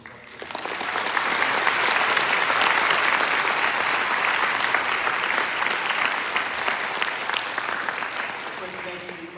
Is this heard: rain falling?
no